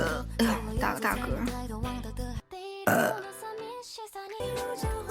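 Loud, gravelly belches from a vtuber on a live stream, close to the mic, broken by a brief silent gap, with a droning musical backing throughout.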